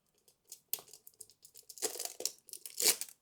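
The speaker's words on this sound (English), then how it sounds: "Take the plastic seal off it." A thin plastic seal is peeled off a new oil filter during an oil change on a Subaru Impreza WRX, giving close, crinkly tearing and rustling bursts that build louder toward the end.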